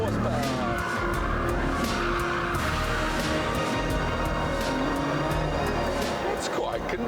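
A 1,000 horsepower supercar pulls out of a hairpin in first gear, its engine droning loud and steady with tyre squeal, while someone talks over it close to the microphone.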